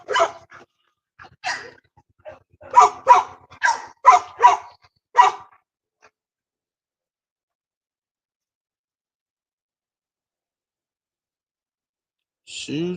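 Bulldogs barking in a yard, a burst of several sharp barks and yips in quick succession over the first few seconds, then silence before a short sound at the very end.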